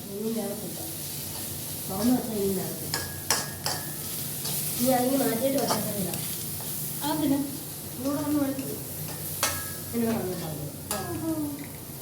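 Fried rice is stirred in a hot pan at home during a family birthday, with a steady sizzle and repeated scraping stirs, while people talk throughout.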